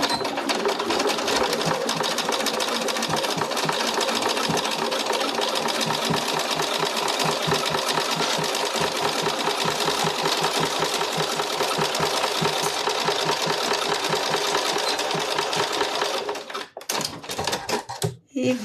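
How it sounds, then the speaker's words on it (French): A sewing machine stitches through velvet with a fast, steady mechanical whir and needle clatter that runs close and loud for most of the stretch, then stops, leaving a few brief clicks at the end. "je décale l'aiguille dans le velours pour piquer dedans"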